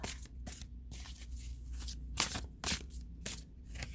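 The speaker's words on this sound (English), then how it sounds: "I always feel like I'm so dramatic when I shuffle these cards, but they're so big." Large tarot cards are shuffled in a quiet room, a series of soft riffling bursts and flicks with short pauses between them.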